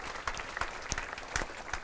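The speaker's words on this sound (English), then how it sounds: "please give a warm round of applause" Brief burst of audience applause at a sports hall of fame banquet, scattered claps from a crowd in a dining hall, steady and moderately loud.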